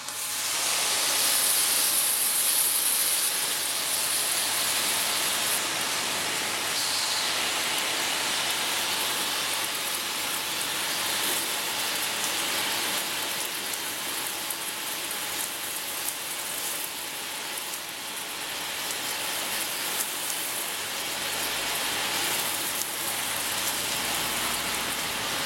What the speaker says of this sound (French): Je vais simuler la pluie, regardez bien le pare-brise.